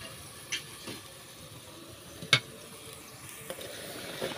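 Koi fish dropped into a village cooking pot with shrimp, pointed gourd and potato, giving a faint steady sizzle with a few sharp splashes and clatters, no voices.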